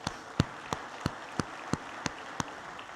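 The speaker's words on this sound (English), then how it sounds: "So why don't we give them one more round of applause." A few faint, evenly spaced claps ring out in a slow steady rhythm, thin and sparse rather than a full crowd ovation, offered to award winners at a restaurant industry conference.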